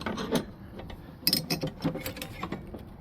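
A wrench tightening a double flare brake line fitting, a run of quiet close metallic clicks and ratcheting ticks in uneven bursts, with no talk.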